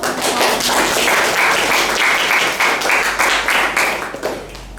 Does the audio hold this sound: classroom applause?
yes